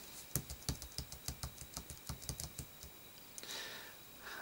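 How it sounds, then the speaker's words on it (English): Playing cards shuffled by hand in a quick run of crisp, regular riffling clicks at close range, ending in a brief soft swish, with no voices. "Now we shuffle these down, like so."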